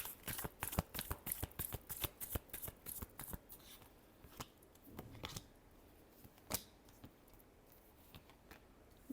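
Tarot cards are shuffled by hand for a Libra reading, a close, crisp run of riffling flicks that is dense at first, then thins to sparser snaps and rustles.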